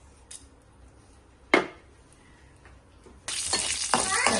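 Mustard and fenugreek seeds hit hot oil in a pan with a sudden loud, continuous sizzle and spatter. A few sharp clinks of a utensil against the pan come before it.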